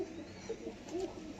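Sambalpuri Kalchoch pigeons coo softly nearby, a few low, rounded calls spaced across a quiet moment.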